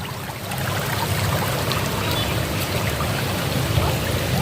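Irrigation water flows steadily through a village river beside rice paddies, a continuous close rushing wash with no voices.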